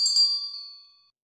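A bright subscribe-bell notification chime rings once, clear and close, then rings out and fades to silence within about a second.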